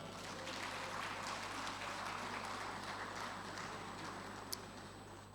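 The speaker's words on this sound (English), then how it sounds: "give themselves a huge round of applause" Audience at the NSE 2024 international conference fellowship conferment gives a round of applause: steady, dense clapping that holds at an even level throughout and sounds somewhat distant in a large hall.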